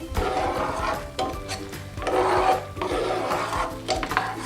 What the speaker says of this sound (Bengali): এই চামচটা দিয়ে নাড়বো।